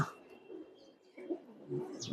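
Pigeons kept for racing and tournament flying coo softly in short, low murmurs, fairly close but faint, with a few higher chirps near the end.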